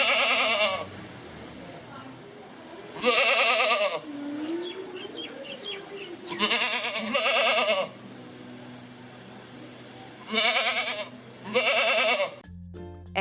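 In a Hindi cartoon, a voice imitates a goat's bleat in several loud, wavering bursts separated by pauses, with quieter background sound between them.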